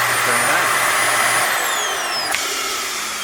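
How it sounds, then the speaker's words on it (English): A central vacuum system in a Jayco Northpoint 382FLRB fifth-wheel RV runs with a steady high whine and whoosh, its pitch shifting partway through as the motor changes. "Central vac system. You can vacuum all the storage area out."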